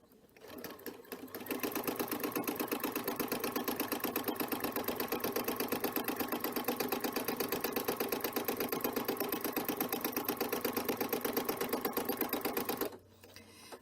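A sewing machine runs steadily for about eleven seconds during free-motion quilting of fabric, a fast, even mechanical stitching rattle that starts and stops cleanly, with no talking.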